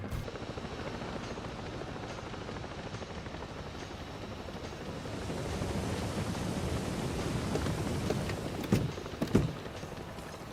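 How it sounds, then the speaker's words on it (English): Helicopter in the video game Ghost Recon Breakpoint, a loud continuous rotor thrum and engine roar heard from on board, swelling slightly midway, with a couple of sharp knocks near the end. "back on a helicopter"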